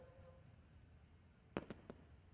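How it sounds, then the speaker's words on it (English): New Year fireworks bursting at Bradenton Motorsports Park during a drag racing event, three or four quick distant bangs over faint background ambience. "we may have fireworks going off now"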